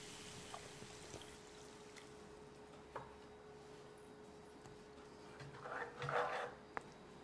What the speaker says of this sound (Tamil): கருகாமல் இருக்கிறதுக்காக 1/2 கப் அளவுக்கு தண்ணி சேர்த்துக்கலாம்.